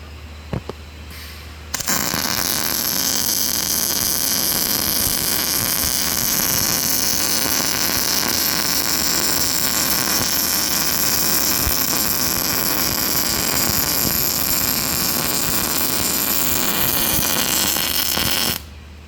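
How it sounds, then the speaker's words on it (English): MIG welding a second pass along the beveled edge of steel plate in the flat position, a steady continuous buzzing crackle that runs loud and unbroken for most of the span after a brief quiet start. "We're going to put another weld in."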